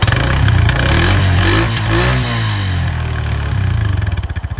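A Honda 420cc quad engine revs up and falls back, then revs again, a loud, close mechanical roar with no talking.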